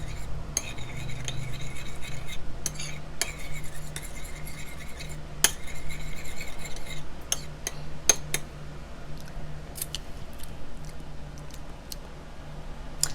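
A spoon stirs homemade sauce in a bowl, making quiet, irregular metallic clinks and taps against the dish over a soft background hush.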